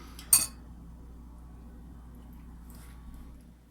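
A single sharp clink of a metal spoon against silverware rings out near the start, followed by a quiet room hum.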